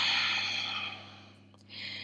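A long breath is exhaled through the mouth during a yoga sequence, a soft breathy rush close by that fades over about a second, followed by a quieter breath against a low steady hum.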